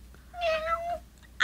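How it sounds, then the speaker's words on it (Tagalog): A single cat meows once, a drawn-out cry lasting about half a second, fairly close and clear, with no talk over it. "Adda pusa di ta bubida."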